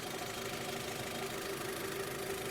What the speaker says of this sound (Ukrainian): двигун теж не самий тихий. Я не скажу, що він тихо працює